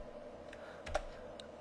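A few separate key presses on a computer keyboard, faint and sparse against quiet room noise, with one slightly louder click near the middle.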